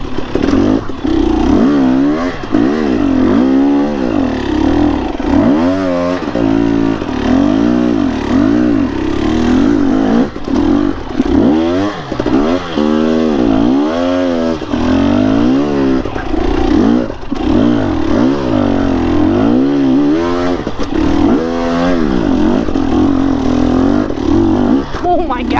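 A motorcycle is ridden and revved, its engine pitch rising and falling again and again, loud and close the whole time, with some clatter and wind noise.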